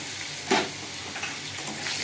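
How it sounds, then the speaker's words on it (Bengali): Potato and green plantain pieces frying in hot oil with cumin in a pan, a steady close sizzle with a sharp crackling burst early on and lighter stirring scrapes afterward. "একটু ভাজা ভাজা করে নেবো আলু আর কাঁচকলাটা"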